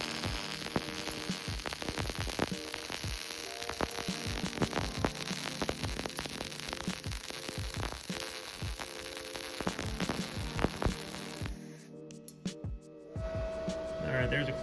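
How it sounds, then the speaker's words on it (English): MIG welding 3/8 inch bar stock with an Arccaptain MIG250 set at 210 amps: a continuous crackling, buzzing arc with a steady hiss and sharp pops, close and sustained, briefly stopping and restarting near the end. "we're going to be welding the 3/8 inch bar stock"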